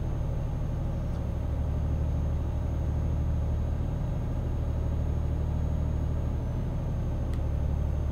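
Renault Magnum truck engine in Euro Truck Simulator 2 pulls steadily as it speeds back up after merging onto a motorway, a constant low rumble with no talk.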